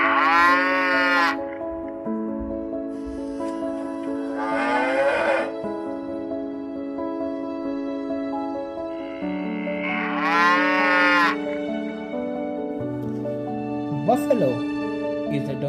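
A cow moos several times in long, drawn-out calls, loud and close, with pauses between them.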